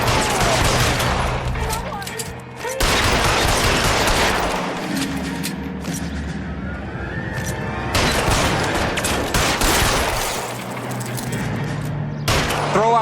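Heavy gunfire from a video game shootout rattles loud and near in sustained bursts with brief lulls, with voices speaking over the shooting.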